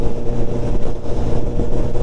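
A 2022 Honda CB1000R roadster fitted with an IX Race silencer idles in a steady, low, throbbing rumble, close and continuous with no voices.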